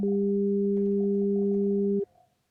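Two steady sine wave tones, one low and one an octave higher, generated together in Overtone with Clojure; they sound as a clean, constant electronic hum for about two seconds, then cut off abruptly.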